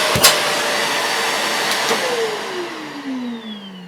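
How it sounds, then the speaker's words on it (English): Vax Air Silence C86-AW-PHE bagless vacuum cleaner switched on without its power head: a sharp click, then a steady loud motor whine and airflow rush, up close, with a descending tone as the motor settles. "I'm just going to switch it on without the power head first so we can judge the noise level of the machine itself."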